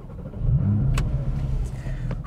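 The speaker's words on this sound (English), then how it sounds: "you've got to put the clutch in and then twist this to the right to turn the engine on." A 2021 Porsche 718 Boxster GTS with a 4.0-liter flat-six and six-speed manual fires up, its low engine rumble swelling quickly and settling into a steady, close idle.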